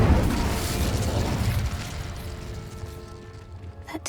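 A fire spell cast in the Hogwarts Legacy video game, with a loud whooshing, roaring burst that fades over a few seconds and a faint sharp click near the end.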